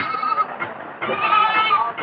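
A goat bleats repeatedly at the Puthiyamputhur livestock market, with close, wavering cries that run almost without a break and faint voices from the crowd behind them.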